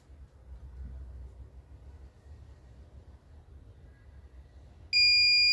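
An Intelbras MHDX DVR hums quietly for several seconds while its reset button is held, then a loud, sharp electronic beep suddenly sounds and holds steady.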